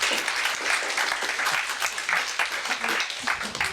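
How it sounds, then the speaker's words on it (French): A church congregation applauds the pastor's wife, steady dense clapping from a crowd in a hall, moderately loud and sustained throughout with a few faint voices mixed in. "Est-ce qu'on peut applaudir ma femme si vous voulez?"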